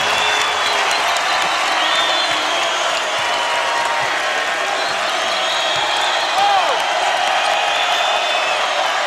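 College basketball crowd at the D Event Center for a WSU game against East Carolina, a constant roar of cheering and applause with a commentator talking over it.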